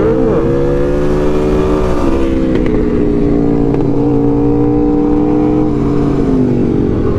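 A brand-new Aprilia RSV4 Factory motorcycle rides at full lean on damp roads, its engine a loud, steady droning roar with slight pitch shifts and wind rush, close and continuous throughout.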